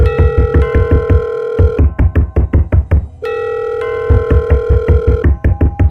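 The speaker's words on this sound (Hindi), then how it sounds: "पॉकेट में रखा फ़ोन अचानक बजने लगा।" A mobile phone kept in a pocket rings loudly with a repeating electronic ringtone, two long cycles of pulsing tones separated by a brief gap, with no other sound.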